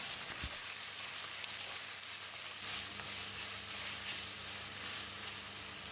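Chopped tomatoes sizzle steadily in a pan with softened onions, a continuous even frying hiss with faint stirring scrapes, close and alone without talk.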